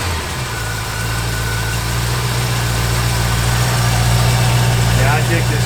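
A 1957 Chevrolet Bel Air V8 idles steadily with a deep, even rumble and a low throb, close and loud for the whole stretch with no revving.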